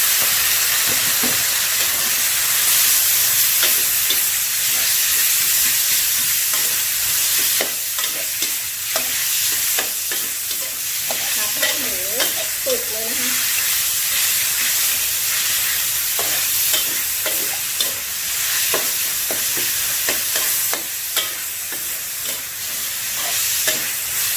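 Minced pork stir-fries in a pan for a cabbage and glass noodle dish: a loud, continuous sizzle and hiss runs throughout, with frequent rattling scrapes of the spatula. No voices.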